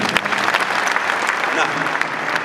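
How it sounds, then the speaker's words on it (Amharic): Congregation at a church deliverance service claps steadily and densely throughout, a continuous wash of many hands with voices mixed in underneath. "ለጌታ ክብር አጨብጭቡለት።"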